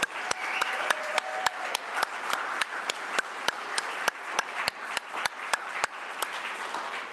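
A church congregation claps in a thin, spread-out patter, with a few sharp individual claps standing out at an uneven rhythm across seven seconds, moderately quiet and with no talking.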